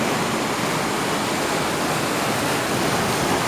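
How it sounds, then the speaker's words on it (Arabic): Sea waves wash onto a beach in a steady, loud rushing roar with no distinct breaks, dense surf noise filling the whole moment with no voices. "رح افرجيكم هلقيت البحر كتير كتير حلو"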